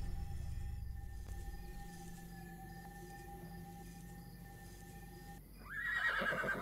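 A horse whinnies in the video game Horse Valley: a long, sustained neigh that drops in pitch, then a louder, shaky whinny bursts out near the end, with no one talking.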